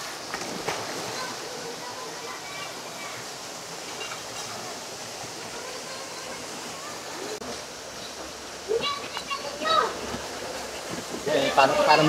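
A river and waterfall rush at Litlit Falls in Silang, Cavite, a steady broadband roar of flowing water that holds throughout, with voices talking over it toward the end.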